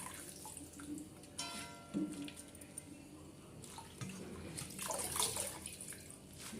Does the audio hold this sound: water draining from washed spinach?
yes